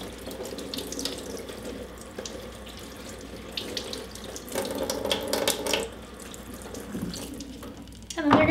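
Tap water runs steadily into a sink as beets are rinsed under it, a continuous close splashing that shifts as the vegetables move through the stream.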